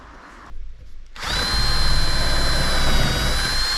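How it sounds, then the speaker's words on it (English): A power drill bores a hole in a cabinet board, spinning up loud and close after a couple of brief bursts, then holding a steady, piercing whine to the end. "I'm going to drill a hole and start ruining the board."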